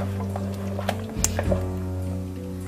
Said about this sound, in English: I like to just pour from a jug so I tip into a good roomy jug with a good pouring spout